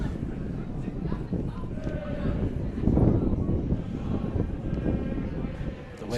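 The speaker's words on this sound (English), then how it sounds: "The wind is really getting up." Strong, bitter wind buffets the microphone at an outdoor football match between FC United of Manchester and Dragoons FC, a continuous low roaring rumble that swells into a louder gust midway.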